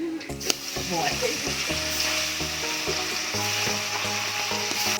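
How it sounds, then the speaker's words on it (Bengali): Tere fish pieces coated with salt and turmeric sizzle continuously in hot oil, a close, even crackle with occasional light scrapes of a utensil against the pan. "মাছগুলো এইভাবেই আমি ভেজে নেব।"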